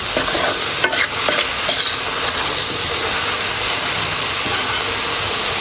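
Meat frying in hot oil with onion and ginger crackles and sizzles loudly and close, with repeated scraping and clanking of a stirring spoon against the pan and no talking.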